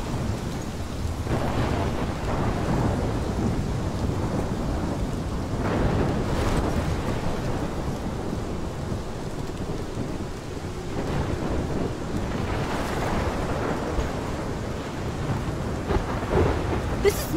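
Thunderstorm with heavy rain in the video game Life Is Strange, a dense continuous downpour with deep rolling thunder swelling at intervals, loud and enveloping, no voices.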